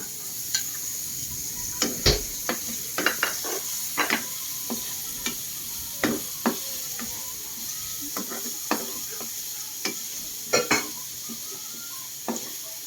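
Garlic, onion and ginger sautéing in a pan, a hissing sizzle under repeated sharp metal spatula scrapes and clinks against the pan at an uneven rhythm, close and fairly loud, with no talking.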